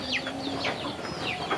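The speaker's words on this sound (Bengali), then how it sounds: "ওই পাশটায় দেশি মুরগি বাচ্চা সহ" Native village chickens with their chicks, heard in a short burst of close clucks and high peeping calls in a rural yard, with no one speaking.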